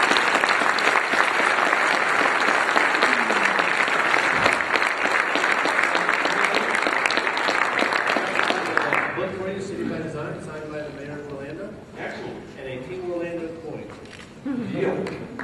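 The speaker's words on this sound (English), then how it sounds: "give a big round of applause" A crowd at an industry keynote gives a big, dense round of applause that fills the first nine seconds, then fades as a voice starts talking over the last scattered claps.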